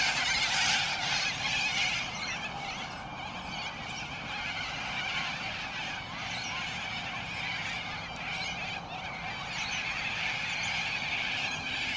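A flock of geese honks continuously in the twilight in Australia, many overlapping calls, moderately near, forming a dense steady chorus for the whole stretch.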